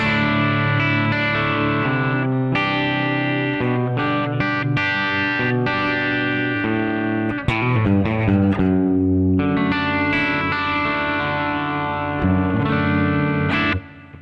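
A guitar played through a Korg Pandora PX4 multi-effects unit rings out heavily distorted chords and single notes with reverb tails trailing each phrase, loud and alone with no talking.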